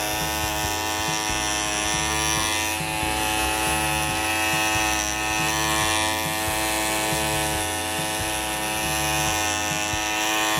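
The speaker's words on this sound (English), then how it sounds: "I'm gonna show you how we're gonna level that out with this shaver right now." An electric rug shaver hums steadily as it levels the fluffy pile of a handmade rug, a close, continuous buzzing drone with slight rhythmic shifts in load as the blades pass over the tufts, no voices.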